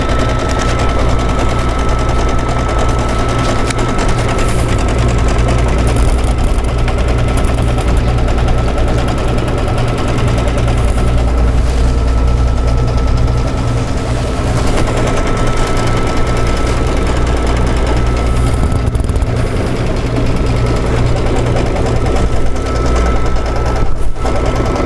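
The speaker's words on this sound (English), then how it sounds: "sewed the line between our side that's going to have our the actual tooth and the side that will have the pocket." A sewing or embroidery machine runs steadily while stitching the dividing line on a tooth fairy pillow, a continuous loud rapid mechanical drone with no pauses, heard alone without talk.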